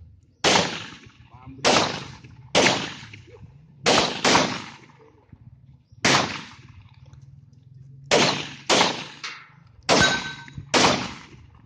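Gunfire at a military shooting competition on an army anniversary in Aceh Selatan, Indonesia: about ten loud, sharp shots in an uneven sequence, several with a metallic ring from struck steel targets, and low voices between them.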